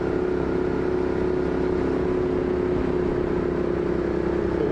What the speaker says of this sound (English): A wide variety of sport bikes, cruisers, nakeds.